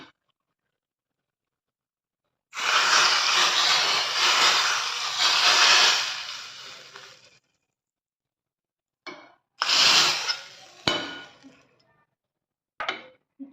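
Hot tempering with red chilli powder poured over fenugreek dal, a loud burst of crackling sizzle lasting several seconds, then quieter short hissing spurts and clinks after silence.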